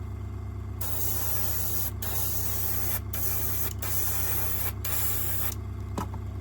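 Airbrush spraying primer onto a model railway locomotive, a steady hiss running almost unbroken across the clip with several short pauses, over a constant low compressor hum.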